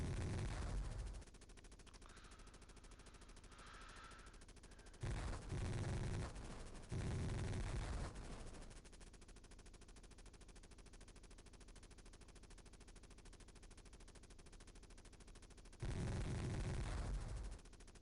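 Helicopter machine-gun fire in the Sega Genesis game Jungle Strike: several short, quiet bursts of rattling fire, separated by long stretches of low engine drone.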